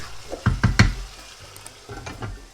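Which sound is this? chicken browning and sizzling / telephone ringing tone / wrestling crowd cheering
chicken browning and sizzling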